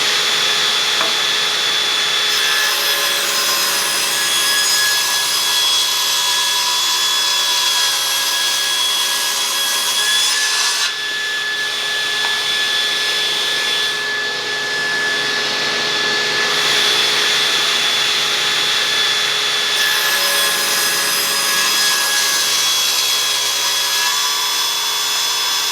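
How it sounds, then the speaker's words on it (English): Power saw ripping wood boards to final width for a plant stand, a loud, continuous whining drone that dips briefly between passes before resuming at full strength. "Now we'll rip these in to their final dimension."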